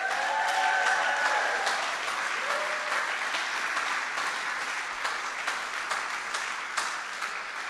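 A gala crowd applauds an award honoree receiving a Pride in Democracy Award, sustained full-room clapping that stays even and dense throughout, heard from within the audience with faint whoops at the start.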